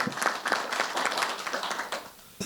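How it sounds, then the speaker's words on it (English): Audience applause for a panelist at a conference session on assessment tools, a steady patter of many hands clapping at moderate distance that thins out toward the end. "Let's give a round of applause to him."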